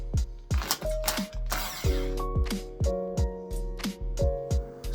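Screws are removed from a privet bonsai stump, giving a run of repeated ratcheting clicks and mechanical whirs in quick, uneven bursts, close and fairly loud.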